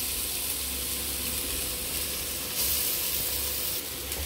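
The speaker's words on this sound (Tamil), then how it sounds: "இது நம்ம இப்போ நல்லா ஒரு 5 நிமிஷம் நல்லா வதக்கிக்கலாம்." Grated sweet potato sautéing in a pan for a sweet potato payasam, a steady close sizzle and hiss of frying that holds even throughout, with no voices.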